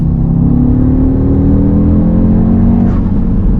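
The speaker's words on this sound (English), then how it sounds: "it does the pops and cracks if you're in dynamic mode and in neutral, and just rev it out" An Audi RSQ3 with a Stage 1 REVO remap, in neutral and dynamic mode, holds a loud, deep, steady engine drone close by, rumbling continuously; no distinct pops or cracks stand out.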